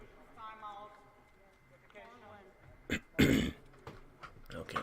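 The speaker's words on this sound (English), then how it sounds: "now I just need to stop coughing" A commentator covering a Super Europe SEGL South Division 2018-19 match between Karantanija Ljubljana and Sporting CP coughs, with a couple of harsh bursts close to the mic after soft voiced sounds.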